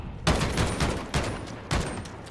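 Bursts of Odin rifle fire crackle in Call of Duty Modern Warfare, several loud rapid automatic volleys with short gaps between them, close and punchy.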